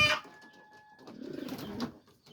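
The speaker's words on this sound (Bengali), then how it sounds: "কবুতরগুলো খুব অ্যাক্টিভ থাকে" Pet pigeons kept at home give a soft, low cooing call that swells for about a second, close by and fairly quiet, with faint higher chirps before it.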